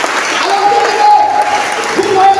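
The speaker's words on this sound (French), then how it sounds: "Donne des acclamations au Saint-Esprit." Congregation at a French-language Holy Spirit worship service applauding and acclaiming, a steady wash of clapping with voices and a sustained tone running beneath, filling the whole moment.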